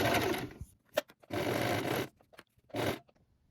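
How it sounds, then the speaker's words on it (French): A sewing machine stitches over an earlier seam on a fabric beach bag, loud close whirring runs that stop and start three times, separated by brief clicks and pauses, with no talk. "moi j'ai décidé donc de coudre là où j'avais déjà cousu précédemment"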